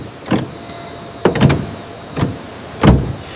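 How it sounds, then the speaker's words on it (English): A rebuilt aircraft passenger door is operated and tested, giving four separate mechanical clunks and sliding thumps spaced over a few seconds, close and fairly loud with no talk. "Even the massive passenger doors are rebuilt and tested."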